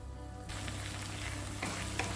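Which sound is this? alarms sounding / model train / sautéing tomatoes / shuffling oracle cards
sautéing tomatoes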